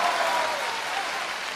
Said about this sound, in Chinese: 雷鸣般的掌声。